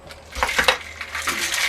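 Ice cubes dropping into a highball glass for a Long Island Iced Tea, a quick run of bright clinks and rattles over about two seconds, close and moderately loud with no talking.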